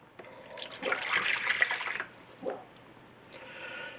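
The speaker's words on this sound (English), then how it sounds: "We're going to put our water in." Water pours into a mixing bowl for bread dough in a short splashing stream lasting a couple of seconds, then a brief second trickle, close and moderately quiet.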